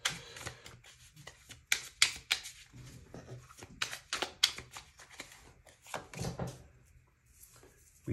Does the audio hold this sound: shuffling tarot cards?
yes